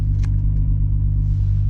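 A Volkswagen VR6 engine paired with an O2J transmission idles in a deep, steady, close-up rumble, loud and even throughout without any speech.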